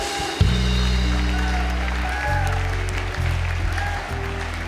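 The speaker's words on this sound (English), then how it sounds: "Mighty clap, Jesus." A crowd at a church worship service claps steadily and loudly throughout, a continuous wash of applause with low instrumental tones and voices mixed in.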